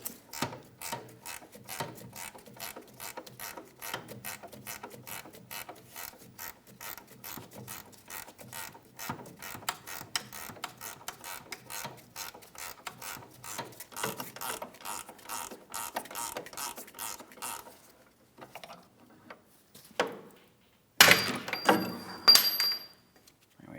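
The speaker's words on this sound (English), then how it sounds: "I'm going to switch to an 18mm ratcheting wrench." An 18mm ratcheting wrench loosens the rear upper control arm bolt on a 2007-2014 Ford Edge, giving a long run of quick, even ratchet clicks that is close and fairly quiet, followed by a few louder metallic knocks.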